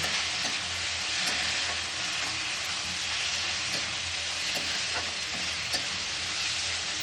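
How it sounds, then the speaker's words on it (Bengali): Eggs fry for egg paneer bhurji with a steady, bright sizzle and hiss in the pan, punctuated by light scraping and tapping as the mixture is stirred, with no talk over it. "তো এখন আমি দিয়ে দেবো ডিম। তো আমি এখন এটাকে ভালো করে মিক্স করব।"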